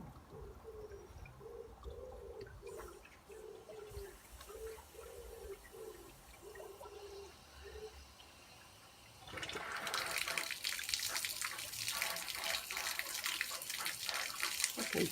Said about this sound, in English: so now the water's running out clear